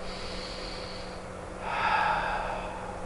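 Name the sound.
narrator imitating a pig taking a deep breath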